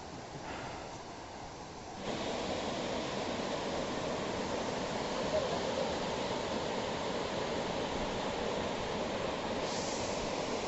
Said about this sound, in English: You can see that beautiful waterfall. That is called Huhuat Waterfall